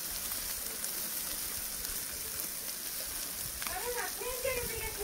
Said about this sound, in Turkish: Full yağmur yağıyor.